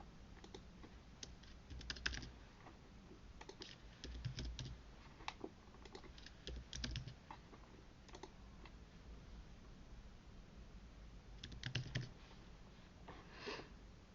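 Words being typed on a computer keyboard, with irregular bursts of quiet key clicks and short pauses between them, close and faint with no talking.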